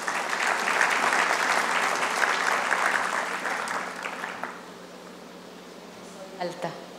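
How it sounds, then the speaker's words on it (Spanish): An audience applauds at an academic lecture on global administrative law, a steady dense clapping for about four seconds that fades out, followed by quiet room tone and a few faint knocks. "Aplausos."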